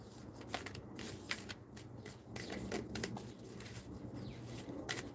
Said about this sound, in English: This deck can be a little awkward to shuffle.